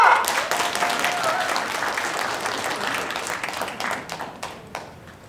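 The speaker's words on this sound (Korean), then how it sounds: "박수 한번 주세요" Applause from an audience at a Korean community village project results-sharing event, a steady spread of clapping that gradually fades, with a faint voice audible underneath at the start.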